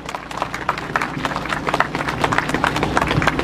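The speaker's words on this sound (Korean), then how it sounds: "박수 한번 쳐주시죠" Crowd clapping at an outdoor press conference in Namyangju, dense and steady irregular claps across the whole stretch, fairly close and moderately loud, with no talk over it.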